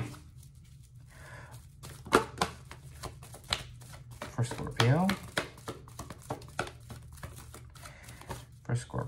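Oracle deck being shuffled by hand: soft, close card riffles and rustles in bursts, with a voice speaking over parts of it.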